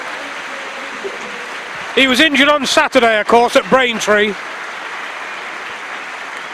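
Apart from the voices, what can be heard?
football crowd applause for the skipper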